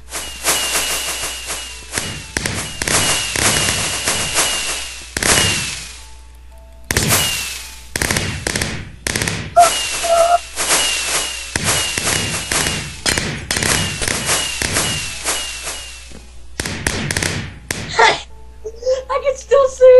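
Minecraft fireworks burst in rapid, loud cracks and pops, clustered in repeated volleys with brief gaps, while players talk in the background.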